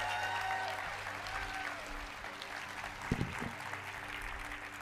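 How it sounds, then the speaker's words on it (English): Audience at a hypnotist show at a conference in Long Beach applauds steadily, a dense, moderately loud wash of clapping with a low hum underneath and a few brief voices or thumps partway through. "Give her a round of applause."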